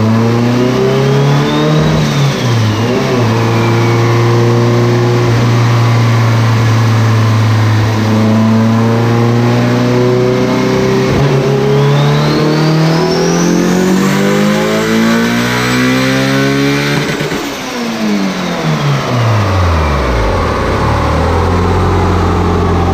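A naturally aspirated Honda H2B engine car roars through a dyno pull, the engine revving hard with steadily climbing pitch, then rising again to a peak before backing off, loud and close with no talking.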